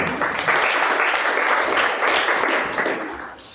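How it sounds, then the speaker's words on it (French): A church congregation claps at a French-language worship and teaching evening, producing dense, steady applause that holds for several seconds and then tapers slightly at the end. "On acclame Jésus"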